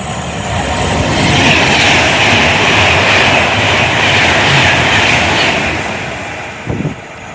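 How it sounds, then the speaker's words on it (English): A Pendolino express from Manchester Piccadilly to London Euston rushes through Rugby station, a loud sustained roar of wheels and wind with rail clatter that swells and holds, then eases, ending in a brief bump near the close. "passing through we have a Pendolino from Manchester Piccadilly to London Euston"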